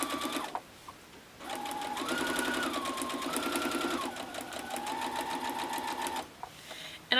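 A home sewing machine stitches quilt units fed one after another with a 1/4 inch foot, a steady close whirring run that pauses briefly near the start and then hums on continuously before stopping.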